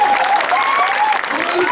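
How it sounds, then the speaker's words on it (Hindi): An audience at a gathering in Darbhanga breaks into steady, dense clapping that fills the whole short stretch, fairly loud and close, with a voice faintly audible over it. "जोर से ताली बजाइए भैया,"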